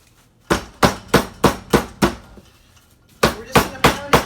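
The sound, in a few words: pounding chicken flat with a sturdy pot on cutting board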